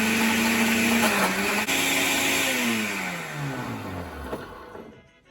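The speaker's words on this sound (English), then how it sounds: "So that's the coconut blended there." Coconut milk whirls in a blender at medium speed, a loud steady motor whine that gradually slows and drops in pitch before cutting off near the end; no talking.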